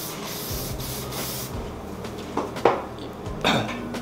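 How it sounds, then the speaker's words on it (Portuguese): Hair spray misted onto hair from an aerosol can in several short hissing bursts of about a second each, close to the mic, followed by a few faint clicks and taps, with no talking. "eu vou só terminar aqui botando um pouco de spray"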